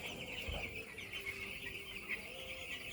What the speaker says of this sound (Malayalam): ഇതിപ്പോൾ കേവലം 12 ദിവസമായ കോഴിക്കുഞ്ഞുങ്ങളാണ് ഈ കാണുന്നത്.